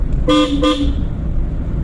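Two short car horn blasts sound close by during a driving lesson, over a steady low rumble of the engine and road.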